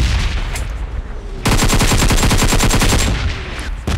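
Automatic gunfire in a video game as three enemies are finished off: a loud, rapid burst of shots, steady and close, following a quieter stretch of game noise.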